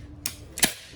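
A JY AWM airsoft sniper rifle gives two sharp mechanical snaps in quick succession as the trigger is pulled and the gearbox fires, close and crisp against a quiet background.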